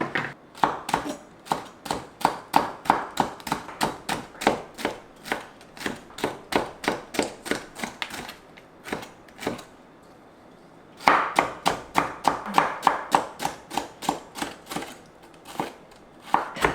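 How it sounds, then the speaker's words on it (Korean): A knife slices yellow and red bell peppers on a wooden cutting board with crisp, evenly spaced chops in a fast, steady rhythm. The chopping pauses briefly, then resumes at the same pace. "파프리카 노란 거 하나 빨간 거 하나 썰어줄게요"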